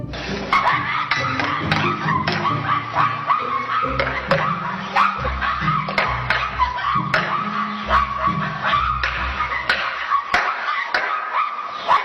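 Kung fu disciples of the Chen style imitate dogs barking during practice, a dense, continuous din of many overlapping yelps and woofs that crowds together, loud and close throughout with no pauses.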